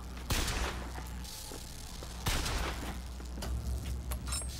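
Bursts of gunfire crack out in a video game, broad loud blasts around the first and second seconds followed by rattling shots and thuds, with no voices heard.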